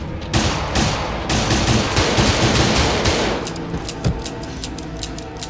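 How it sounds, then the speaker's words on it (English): Gus fires a handgun over and over in a tense Better Call Saul scene, a loud, rapid barrage of close shots that runs almost without pause before thinning into scattered sharper cracks. "Gus continues shooting his gun intensely even after he's run out of bullets"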